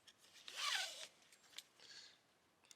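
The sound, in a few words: fastening tank bag strap into buckle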